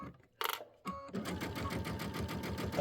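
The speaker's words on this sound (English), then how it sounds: "Do a little back stitch." A home sewing machine runs a short back stitch while piecing a quilted table runner, its steady rapid whirring close and continuous after a couple of brief starts.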